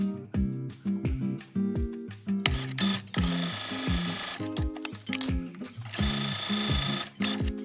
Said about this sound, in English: Sew along both angled sides and across the top